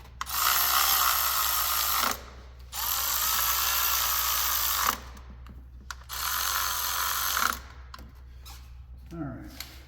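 A power tool runs engine bolts down in three sustained, loud whirring bursts of about two seconds each, separated by short pauses, followed by a few faint clinks of handling.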